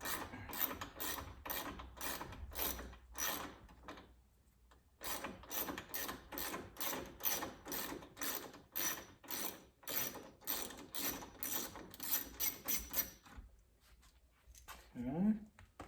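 Ratchet fitted with an extension backing bolts out on a Ford Bronco, a steady run of quick close clicks in bursts with short pauses, ending in a brief clunk.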